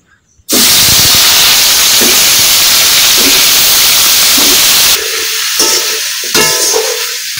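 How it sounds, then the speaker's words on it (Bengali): Cut papaya and potato hit hot oil in a pan with a sudden loud, continuous sizzle and hiss that holds steady, with a few stirring scrapes near the end. "তেল গরম হয়ে গেছে, এখন আমি পেঁপে আর আলু দিয়ে দেবো তেলের ভিতরে।"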